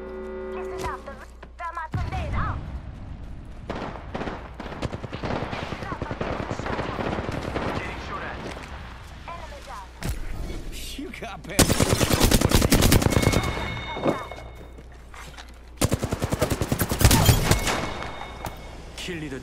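Rapid automatic gunfire from a battle in Apex Legends, dense bursts running almost continuously with a few sharper, louder volleys near the end, mixed with game effects and voices talking over it.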